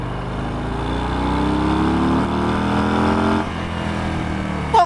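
A Harley-Davidson Breakout motorcycle's exhaust roars under load with a deep, loud, close rumble that climbs steadily in pitch as the engine revs, then drops off sharply.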